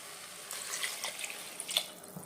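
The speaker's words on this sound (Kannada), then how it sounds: "ಈಗ ಅಕ್ಕಿ ಜೊತೆಗೆ 2 ಬೌಲ್ ನೀರು ಹಾಕಿ" Water runs and splashes steadily into a vessel of rice for a couple of seconds, with small bright splashes and drips, no voices.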